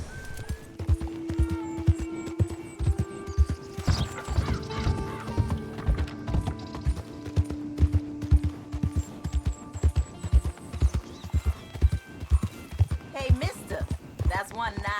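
Steady rhythmic hoofbeats of a galloping horse in Red Dead Redemption 2, loud and close, with occasional snorts and a whinny over game music.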